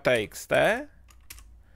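Quick, light clicks of typing on a computer keyboard, entering text into a file, come in soft and close after a short stretch of voice at the start.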